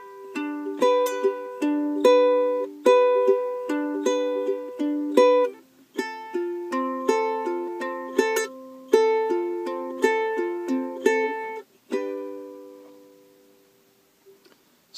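A fingerpicked ukulele pattern read from tab, with pinched strings mixed into steady plucked notes, rings out alone in a lively, repeating rhythm for about fifteen seconds before fading at the end.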